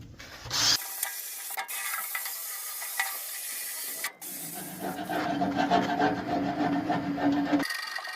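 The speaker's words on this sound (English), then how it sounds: "Got my trusty wire brush." A wire brush scrubs the grates of an old Brinkmann Smoke N Pit offset smoker in a few rough, scratchy bursts of scraping, with short gaps between strokes, close to the microphone.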